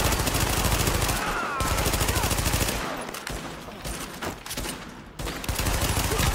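Heavy automatic gunfire in The Division, with dense, sustained bursts of shooting running through nearly the whole stretch and only brief dips between volleys.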